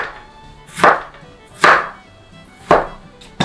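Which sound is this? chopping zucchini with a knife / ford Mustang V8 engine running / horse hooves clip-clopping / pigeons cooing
chopping zucchini with a knife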